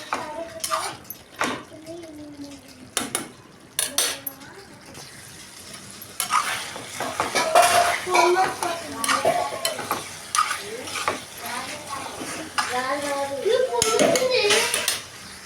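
Village-style chicken fry stirred in a pan, with repeated scraping and clinking of a utensil against metal over a steady sizzle. The sound is close, in uneven bursts, and a voice talks briefly in places.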